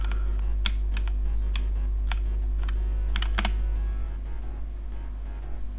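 Typing on a computer keyboard: a quick, irregular run of sharp key clicks over a steady low hum, close and clear, with the clicks stopping before the end and no talk.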